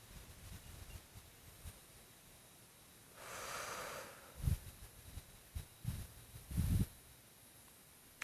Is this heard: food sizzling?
no